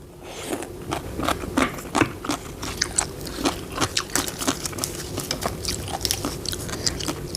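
Crunchy fresh cassava leaves chewed close to the mouth, with dense, irregular crisp bites and crackles following one another steadily, no speech.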